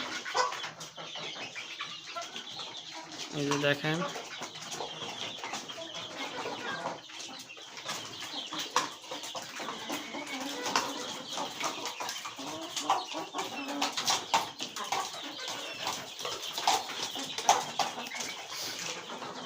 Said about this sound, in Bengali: আর এইদিকে হচ্ছে দেখেন আমার মুরগি, দেশি মুরগির শেড।